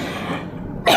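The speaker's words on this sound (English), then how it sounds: "Did I just cough?" A single sharp cough right at the end, close and loud, after a moment of quiet room tone.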